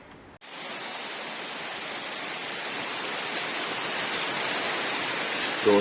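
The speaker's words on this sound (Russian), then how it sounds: "Дождик сегодня вот ночью пошел." Night rain in Arambol, Goa, India, falling steadily as a dense, even hiss of drops on surfaces that starts abruptly, stays close and grows slightly louder, with no voices.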